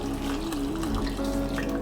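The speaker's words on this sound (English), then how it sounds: "Next, we can finally reintroduce the stock back into the pot." Soup stock being poured back into the pot for Korean seaweed soup (miyeokguk), a continuous close splashing trickle of liquid with a faint tonal hum under it.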